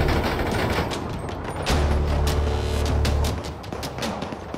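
Sneak-shooting gunfire in GTA 5 rings out as a dense, continuous fusillade of rapid shots with a heavy low boom through the middle, loud and close.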